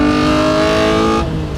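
A mid-mounted, naturally aspirated 3.5 litre V6 in an open-roof Jannarelly Design-1 sports car sings loudly at high revs with a steady harmonic tone, then eases off near the end.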